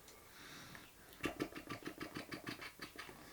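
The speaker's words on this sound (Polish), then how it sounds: "Jedzie traktor, tak." An engine of a passing farm tractor, heard as a quiet rumble that rises into a pulsing, rhythmic chug of repeated throbs, fairly close, with no talk over it.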